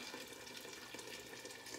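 Boiling water pours steadily into a pan of chicken stew, a continuous splashing hiss close by with no talk over it.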